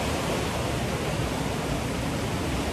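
Ocean waves wash onto a beach on Java's southern coast, a dense, continuous roar of surf with no breaks or pauses and no voices.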